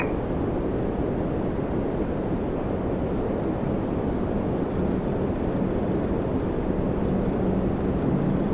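An Air Canada jet departs Toronto Pearson, its engines a steady, broad roar that holds loud throughout, with no talk over it.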